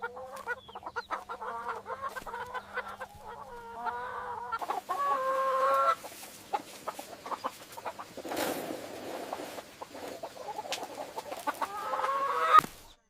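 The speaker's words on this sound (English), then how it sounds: "And go to his chicken coop." Laying hens cluck steadily at a countryside chicken coop in the morning, nearby and fairly loud, with rustling and a door or latch being handled partway through.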